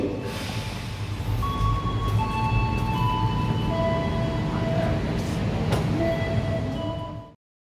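Jakatingkir passenger train rolls along at speed, its loud continuous rumble and wheel roar heard from inside a carriage, with faint squealing tones and a brief knock before it fades.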